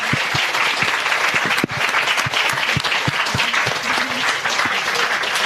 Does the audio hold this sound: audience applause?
yes